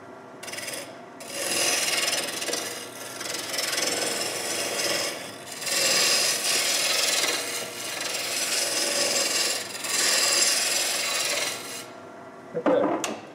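Wood lathe spinning while a tool cuts a birch spinning top in final finishing passes, a steady broadband scraping rasp that continues for most of the stretch with brief pauses, then stops near the end.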